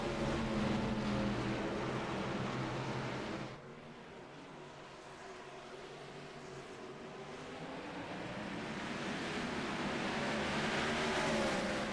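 Gen 4 Cup stock cars racing in the iRacing game at Nashville Super Speedway, a steady loud drone of engines that dips briefly and then swells back up, with no talk.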